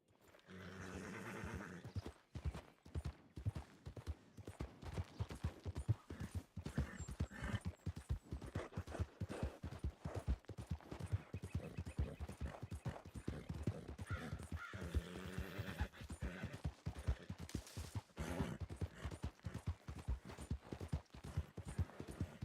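Horse hooves clip-clop rapidly and steadily in a video game, a continuous galloping beat of dense, even hoofbeats, with occasional birds cawing faintly in the background.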